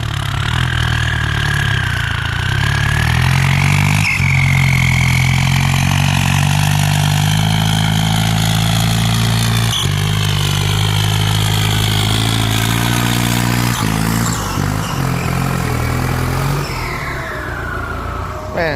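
A Ford 5000 turbo tractor engine idling and running at close range, a loud, continuous diesel drone with small shifts in pitch and a few brief knocks, no talking over it.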